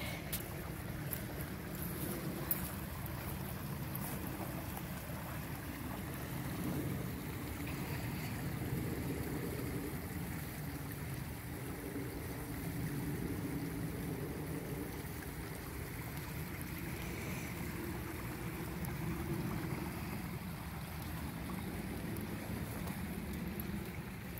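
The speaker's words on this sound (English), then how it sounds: "Love to hear the gurgle" Steady gurgling and rushing of a flowing stream with small natural waterfalls continues throughout, a constant outdoor wash of sound with no voices.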